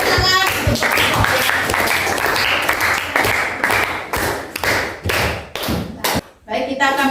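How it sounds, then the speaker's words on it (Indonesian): A classroom of students claps for a student group, the applause rising in uneven bursts with sharp hand slaps and thumps, then breaking off and returning in short rounds as voices come through between them. "Tepuk tangan untuk kelompok."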